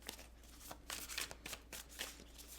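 Tarot cards being shuffled by hand, with quick riffling bursts and soft flicks repeating close up through a quiet room, no voices.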